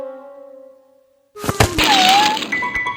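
After a quiet pause, a sudden clatter of objects tumbling and knocking together, followed by a noisy scattered rattle.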